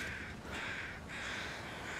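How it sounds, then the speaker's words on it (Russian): Crows caw in the snowy wilderness of The Long Dark, with a few harsh calls rising over a steady windy background at moderate distance. "что здесь вороны кружат трупов"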